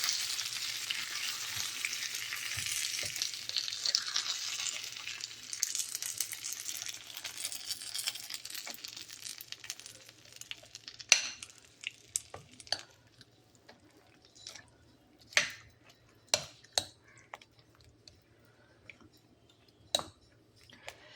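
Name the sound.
stirring pickle in a hot pan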